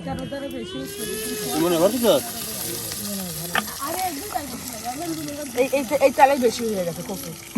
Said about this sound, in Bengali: এখন মরিচগুলো দিয়ে দেওয়া হচ্ছে, শুকনা মরিচ, আর এখন তেলে কিন্তু এগুলো ভেজে নেওয়া হবে